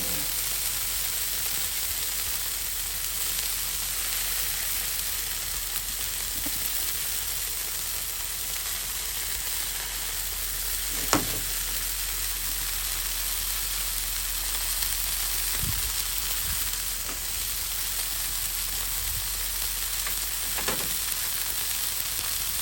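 Minced onion sizzling on a Blackstone griddle, a steady close hiss and crackle that holds throughout, with a few faint scrapes and taps on the surface.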